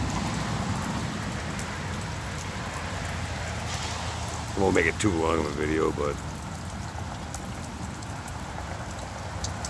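A steady, even downpour hisses throughout a South Louisiana thunderstorm while someone talks briefly over the constant rain midway.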